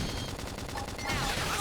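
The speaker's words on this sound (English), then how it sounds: "If we can just tackle them with gunfire." In Xenoblade Chronicles X, dense rapid gunfire rattles through a battle against a large dinosaur and swells louder toward the end.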